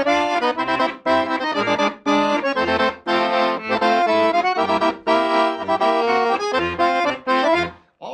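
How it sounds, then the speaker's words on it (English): A Petosa AM1100 concert-tuned accordion playing a lively rhythmic tune, bright reedy chords pulsing with regular bellows-driven phrasing and low bass notes, close and loud with no voices. "This is my Petosa AM1100 concert tuned accordion."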